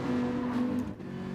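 A racing-game car on the Sardegna road track screams past at high speed, a steady high engine whine holding near-constant pitch before briefly dipping, loud and close with no talk.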